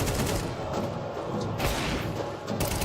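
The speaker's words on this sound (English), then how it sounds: "Lovely cover with the AWP" Sniper rifle fire from an AWP during a professional Counter-Strike esports match, a steady loud wash of gunshots and impacts filling the whole stretch, with sharper bursts near the middle and end.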